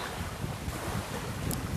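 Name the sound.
wind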